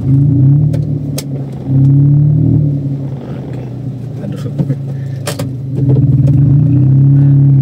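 Motorcycle fitted with a Valve Tronic exhaust, revved in repeated loud bursts that drop back to a deep idle, with a couple of brief spoken words between the revs.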